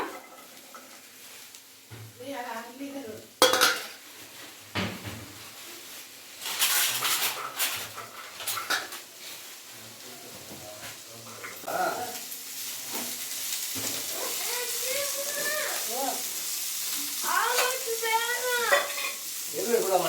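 Onion stir-fries in a pan for gobi manchurian, with irregular spatula scrapes and clatters over a soft sizzle; a voice or two speaks faintly in the background partway through.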